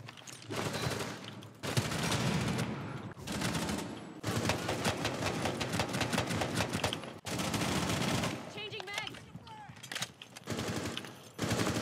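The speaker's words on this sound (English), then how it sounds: "I've got a guy shooting at me with a room with loads of bombs in it" Bursts of rapid enemy automatic gunfire in Rainbow Six Siege terrorist hunt, loud and close, coming in several long volleys separated by short pauses.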